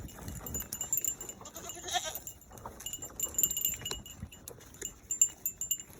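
Farm goats bleat a few times nearby, short irregular calls broken by scuffing and movement noises.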